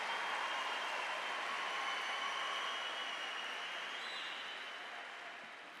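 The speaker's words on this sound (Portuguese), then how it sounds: "vamos aplaudir a palavra do Senhor" A church congregation applauds in sustained, dense clapping that sounds like a steady wash, heard fairly far off and slowly fading toward the end.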